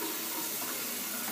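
Hot tap water runs steadily into a shaving lather bowl, a close, continuous hissing splash with no voices.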